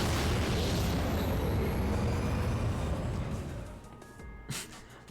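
Rocket boosters blast off in the Fate/Grand Order video game: a loud, dense roaring rumble that holds steady, then thins out and fades with a brief pop near the end.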